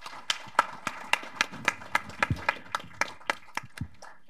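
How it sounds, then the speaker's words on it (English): Clapping at a defense-cooperation panel discussion, heard as a steady run of sharp, evenly spaced claps at moderate distance, fairly sparse rather than a dense roar of applause, with no talking over it. "Please join me in giving the whole panel a round of applause."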